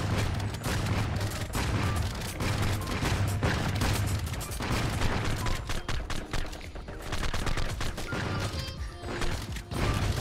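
Rapid bursts of gunfire in the survival shooter LifeAfter, dense overlapping shots and impacts rattling continuously and loudly throughout, with no pause.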